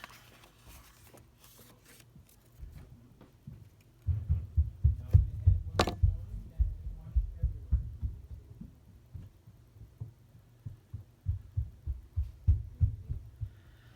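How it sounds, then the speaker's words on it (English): Heavy thumping from someone jumping on the floor upstairs, a run of dull low thuds in a steady bouncing rhythm, muffled through the ceiling, with a brief pause midway and no talk. "He's jumping upstairs."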